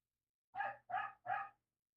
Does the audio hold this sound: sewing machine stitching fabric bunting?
no